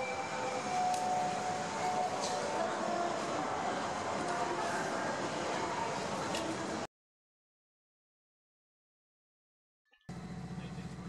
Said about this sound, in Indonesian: sekarang saya sudah menaiki kereta api Limited Express Hokuto nomor 6